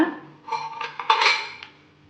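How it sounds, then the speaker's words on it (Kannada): A metal nuputtu press mould for the Kodava rice dish being fitted into place, giving close, bright metallic clinks and scraping taps over about two seconds, with no talk. "ಇವಾಗ ಮೋಲ್ಡನ್ನ ಇದಕ್ಕೆ ಫಿಕ್ಸ್ ಮಾಡ್ಕೊಳ್ಳೋಣ"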